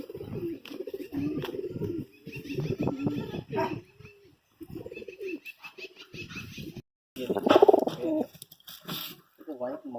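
Pigeons coo in soft, repeated throaty bursts close by, mixed with other bird calls and faint background chatter; a white-eyed Madrasi hen and her flock in Miraj, Maharashtra, with a few brief pauses between phrases.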